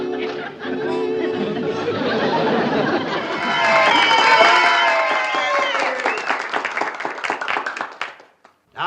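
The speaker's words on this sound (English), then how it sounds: "judging from your applause" An audience applauds and chatters at a talent contest, clapping swelling into dense applause with cheering voices, then thinning and cutting off near the end.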